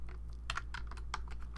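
Quick bursts of typing on a computer keyboard, several close, crisp keystrokes in uneven clusters over a steady low hum, with no voices.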